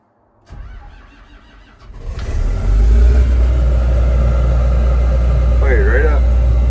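On a cold morning a combine harvester's engine cranks briefly, then catches and fires up into a loud, steady, deep rumbling idle; a short whine rises and falls near the end.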